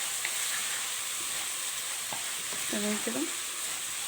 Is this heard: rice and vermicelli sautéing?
yes